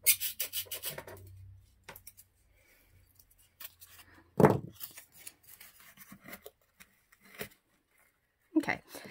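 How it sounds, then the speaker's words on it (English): Scissors snip and rub against a small dollhouse bassinet piece in short bursts, with close cutting and scraping sounds separated by quiet gaps and a few sharper clicks. "So I'll just trim a little bit of it off and then it should fit."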